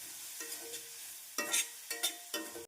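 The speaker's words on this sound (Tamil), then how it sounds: "நாம் மீடியம் ஃப்ளேமில் வைத்து வெங்காயம், பூண்டை நன்றாக வதக்க வேண்டும்" Chopped onion and garlic sauté in a pan over a medium flame while cooking brinjal thokku, with a low steady sizzle broken by several louder scraping stirs near the end.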